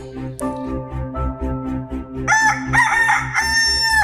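A rooster crows loudly and close by, a long strained call rising over a repeating rhythmic musical beat.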